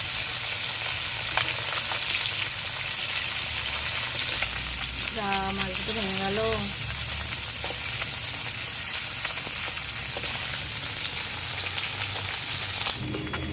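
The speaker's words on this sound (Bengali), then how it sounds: "মাছগুলো ভাজা হয়ে গেছে তুলে নেব" Parshe fish frying in oil, a steady bright sizzle running throughout at close range, with a brief spoken remark partway through.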